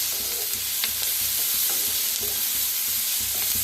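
Egg masala of onion and green chillies fries in a little oil, a continuous close sizzle with soft scraping and knocks of stirring throughout.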